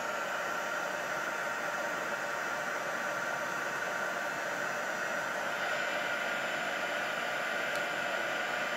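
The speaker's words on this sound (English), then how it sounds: "Use my heat gun, excuse the noise." A heat gun drying a small clay pot on a mini pottery wheel gives a steady, close, even hiss of blowing air that runs unbroken from start to finish.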